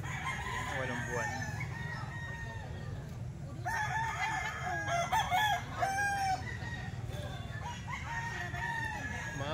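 Fighting roosters of an eight- to nine-month-old gamefowl bloodline crow repeatedly on a farm, several distinct calls mid-distance over steady background noise, with occasional clucking and faint voices.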